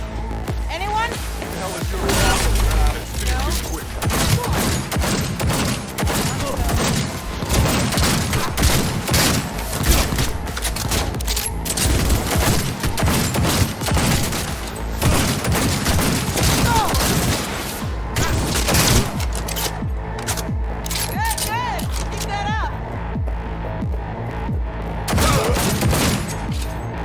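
Gunfire crackles in the video game Cyberpunk 2077 as dense, continuous bursts and booms fill the whole stretch alongside music and effects, while voices shout over the battle.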